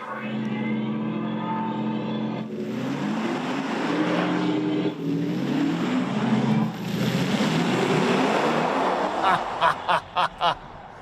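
A 2024 Mercedes-AMG EQE SUV electric car accelerates hard with a steady, rising electric motor whine and road rush, ending in a few short pulsing tones.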